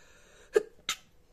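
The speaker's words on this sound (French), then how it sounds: "Je vais éternuer." One person at a cardboard craft table sneezes twice, close and sharp: a sudden voiced burst followed a moment later by a hissing second burst, with quiet before and after.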